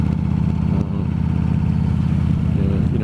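A cruiser motorcycle's engine runs steadily while riding toward a covered bridge. The pulsing, throaty exhaust rumble stays loud and close throughout, with wind noise and no talk.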